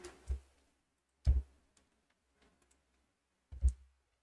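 Three separate mouse button clicks while working in a Vue web app on a computer, each a short close sharp tap spaced a second or two apart, with quiet between them.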